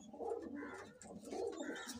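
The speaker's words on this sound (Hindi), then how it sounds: "ये रहा जो पंजाबी करके और गोला कबूतर जो दिए हैं" Soft, close cooing from a Punjabi-type and a Gola pigeon, two short rounded coo phrases in quick succession with a faint, quiet background.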